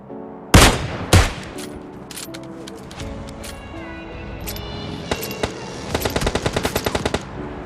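Gunfire in the mobile battle-royale game PUBG Mobile: two loud opening shots, then scattered single shots and a rapid closing burst of automatic fire, with faint game sounds between.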